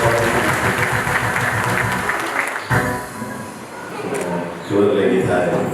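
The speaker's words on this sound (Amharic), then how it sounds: "እግዚአብሔር ከዚህ በላይ ማጨብጨብ እንችላለን" Church congregation applauding a welcomed guest pastor, a dense, sustained wash of clapping with voices mixed in, dipping briefly midway and swelling again toward the end.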